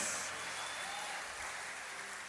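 A crowd claps steadily in sustained applause, dense and even throughout, with no pause.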